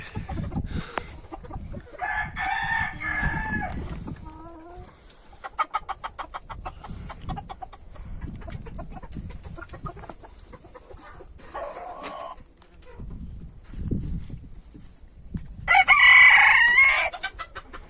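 Three hens cluck in bursts in a yard while a rooster crows loudly several times, the last crow close and strong near the end.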